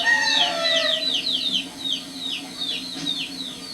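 Chickens raised by a longtime poultry keeper cluck and call up close, a run of repeated sharp, rising squawks in quick succession that taper off slightly toward the end.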